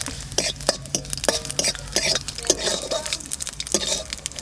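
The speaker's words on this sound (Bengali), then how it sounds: "একটু তেল দেবো, একটু শুকনো লঙ্কা আর জিরা একটু ভাজে রাখবো" Dried red chillies and cumin seeds frying in a little oil in a kadai, with a steady soft sizzle under repeated clattering strokes of a spatula against the pan, close and fairly loud.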